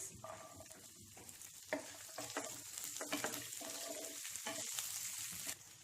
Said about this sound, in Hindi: 5 लाल सूखी मिर्च डाल दें, इन्हें भी सॉटे कर लेते हैं।